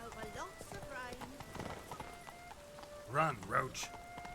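Hooves clip-clop as a horse gallops through a rainy town in The Witcher 3, a steady rhythmic beat under character dialogue with a brief neigh-like call near the end.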